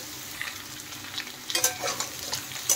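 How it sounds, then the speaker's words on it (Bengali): Potatoes and pointed gourd fry together in hot oil in a pan, a soft steady sizzle with brief scraping stirs near the end; no talking. "এখন আলু আর পটলগুলো আমি ভালো করে ভেজে নেব"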